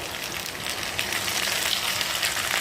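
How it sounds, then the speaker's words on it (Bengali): Steady crackling sizzle of cumin and ginger paste frying in hot oil in a pan, close and continuous with no talking. "একটু ভালো করে ভেজে নিচ্ছে জিরাকে কষিয়ে নেবো"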